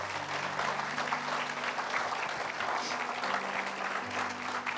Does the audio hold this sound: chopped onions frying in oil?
no